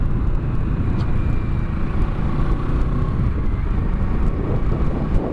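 A 2017 Kawasaki Z650 motorcycle rides through curves, its engine a steady low drone under heavy rushing wind noise, close and continuous.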